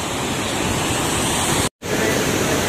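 A waterfall in Cherrapunji, Meghalaya roars as a dense, constant rush of water, close and loud, broken by a brief dropout to silence partway through.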